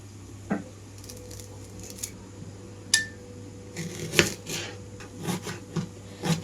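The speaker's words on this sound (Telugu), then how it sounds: "ఉల్లిపాయలు అయితే బాగా సన్నగా కట్ చేస్తున్నాను చూడండి" A knife finely chops onions on a wooden board for a ridge gourd masala curry, giving scattered soft taps and scraping strokes in irregular bursts, close and fairly quiet, with no talking.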